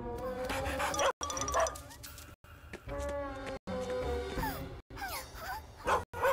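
A cartoon police dog barks and yips several times in short, separated bursts over a busy animated soundtrack.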